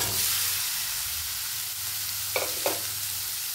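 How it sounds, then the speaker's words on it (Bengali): Boiled chana peas drop into chicken mince frying in a pan, giving a continuous close sizzle and hiss with two short scraping knocks near the end, no speech. "এবার সেদ্ধ করা চানা মটর দিয়ে দেব।"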